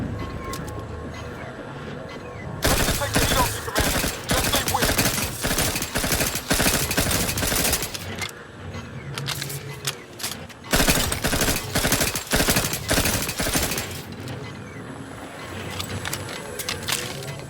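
Automatic gun turrets fire in The Outer Worlds 2, sending out long bursts of rapid gunfire that start, stop and start again over a steady game background, loud and close.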